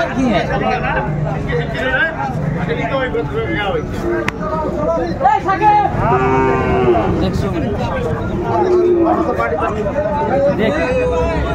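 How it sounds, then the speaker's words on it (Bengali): A Sahiwal breed bull calf moos loudly and close at a busy cattle market in Madaripur, its repeated drawn-out calls rising over constant crowd chatter and nearby talking. "শাহিওয়ালার ষাঁড় বাচ্চা আমরা দেখছিলাম"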